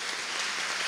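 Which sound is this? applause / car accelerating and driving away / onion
applause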